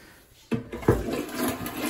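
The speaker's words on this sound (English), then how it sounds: "give it a flush, and see if that worked at all" A household toilet flushes after a baking soda and vinegar treatment for a clog, with a sudden close whoosh of rushing water that settles into a steady swirling drain.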